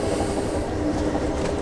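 Amtrak Lake Shore Limited passenger train running between Boston and Chicago, heard from inside a car: a steady low rumble with a soft rhythmic rattle, moderately loud and continuous, with no voices.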